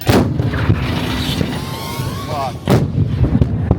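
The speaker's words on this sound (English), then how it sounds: "A powder charge bag is put in behind it, and then that's how we shoot it." Artillery bag gun firing with a powder charge bag at a public shoot event, two loud booming reports near the start and again around the middle, with crowd noise and rumbling between.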